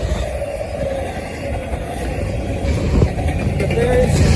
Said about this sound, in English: So we had a mile train go by us, up to 100 cars, and we had 2 pusher locomotives.